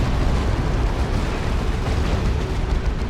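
A rocket run in Dawn of War 2 pounds the battlefield with loud, continuous explosions that merge into one heavy, rumbling barrage lasting throughout.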